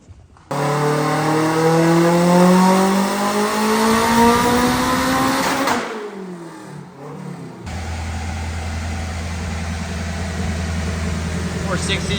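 A car engine revving hard on a dyno, a loud rising roar that climbs steadily in pitch and then cuts off abruptly, followed by a lower steady drone.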